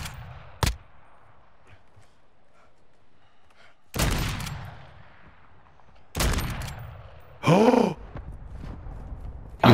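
Sniper rifle fire in Call of Duty Modern Warfare II: several sharp, loud single shots spaced seconds apart, each with a booming echo tail, against a quiet background.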